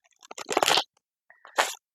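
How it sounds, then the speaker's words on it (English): A deck of tarot cards being shuffled, two short crisp riffling bursts of papery rattle and flicks separated by a brief pause, close and alone. "Hopefully you can hear me over the shuffling."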